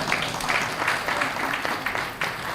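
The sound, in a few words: audience member clapping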